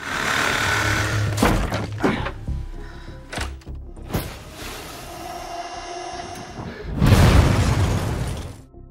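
A loud, sudden blast with broadband crashing and debris, followed by rumbling and another heavy burst near the end, like a cinematic explosion.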